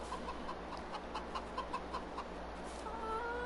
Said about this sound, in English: You're a really cool looking rooster.